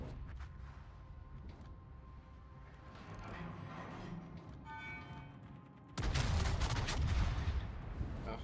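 Warship guns firing in a naval combat video game, heard as distant rumbling gunfire over steady engine and ambient noise, then a sudden loud sustained blast of heavy fire near the end.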